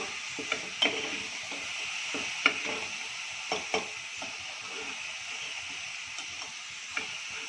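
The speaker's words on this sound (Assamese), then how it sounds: "এইখিনি এতিয়া অলপ ৰঙচুৱাকৈ ভাজিম" Ginger-garlic paste with green chili frying in a pan as the gas is turned up, a bright continuous sizzle broken by repeated spoon scrapes and clicks, close and without speech.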